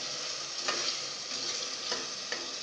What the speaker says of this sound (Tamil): தக்காளி நல்லா வணங்கட்டும்.